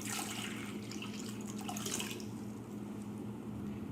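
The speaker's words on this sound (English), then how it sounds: "The first step in our experiment is to take some cold water and fill up our bowl." Cold water runs steadily from a tap into a bowl, a close, continuous splashing rush that stays even for several seconds with no talking.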